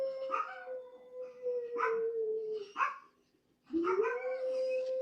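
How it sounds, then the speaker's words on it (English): A dog at night giving a run of long, wavering howls broken by short barks and a brief pause, close and fairly loud, with no talk over it. "That's the dog."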